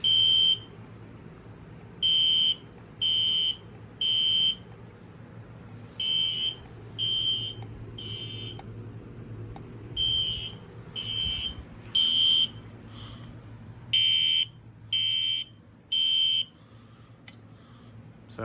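Fire alarm system under a test, sounding a repeating electronic beep in regular bursts about a second long, spaced by short gaps, over a low background hum.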